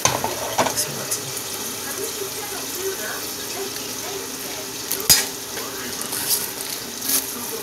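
Homemade nacho cheese melting in a pan gives a soft, steady sizzle with light stirring scrapes and a few sharp clicks of utensil against the pan, close and moderately loud.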